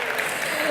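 Audience applause at a literary peace prize awards ceremony in Dayton, a brief steady wash of clapping from a crowd, fairly loud and even throughout without a clear start or end.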